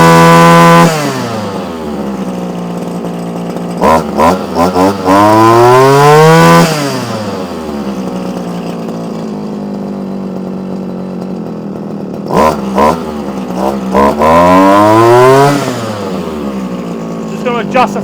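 A Komatsu Zenoah strimmer engine runs loud and close, idling with a buzzy drone and then revving up and back down in two rising and falling surges.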